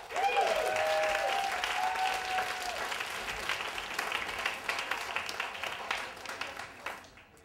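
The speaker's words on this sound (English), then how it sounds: "Please give her a round of applause." An audience at a New York Moth story slam applauds as the next storyteller is introduced, with a full, steady wash of clapping from a crowded room that slowly thins and fades out.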